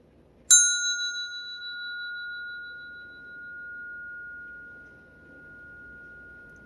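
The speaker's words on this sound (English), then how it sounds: "I love that bell. I love bells." One clear strike of a small bell, its bright pure tone ringing out and slowly fading over several seconds against faint background hiss.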